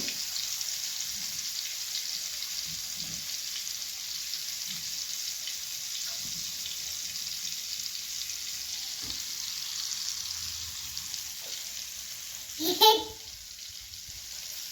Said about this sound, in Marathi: अशा पद्धतीने मी आता सर्व बोमला पीठ लावून मस्त तव्यात फ्राय करायला टाकते